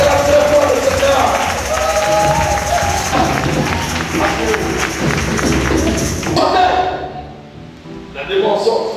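A church congregation cheers and acclaims loudly in a sustained crowd roar with clapping-like texture, fading out near the end before rising again briefly.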